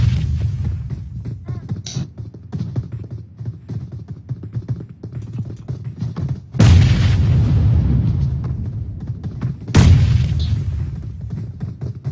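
Two heavy grenade blasts go off in PUBG, each a sudden loud boom with a rumbling tail, spaced a few seconds apart over a low engine-like throb.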